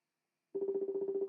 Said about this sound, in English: I'm ringing Iron Man Bear.